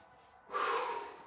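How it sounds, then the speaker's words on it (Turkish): One quick, audible breath drawn in through the nose during a light jogging exercise, close and alone. "Burundan nefes alıyorum."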